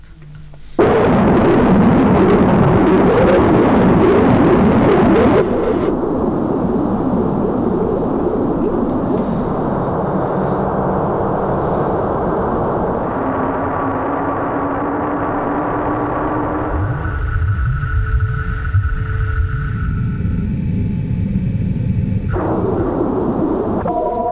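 A Wave Analyzer sound bank from the Noises soundbanks plays a loud, dense electronic texture of rumbling noise with shifting tonal layers and sudden timbre changes, sustained throughout with no talking.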